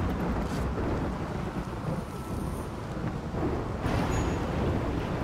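Steady rain in the RimWorld video game, a dense, even hiss of rainfall with a low rumble underneath, continuous and fairly loud throughout with no talking.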